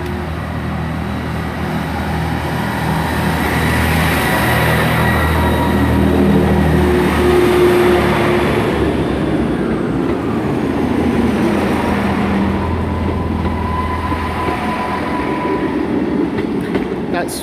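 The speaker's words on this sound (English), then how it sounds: "Departing out now from platform 5 is an Arriva Trains Wales service to Aberystwyth and Pwllheli." Arriva Trains Wales Class 158 pair departing platform 5 at Shrewsbury station, a loud continuous diesel rumble and engine drone with rail clatter, swelling and then easing as the train pulls away.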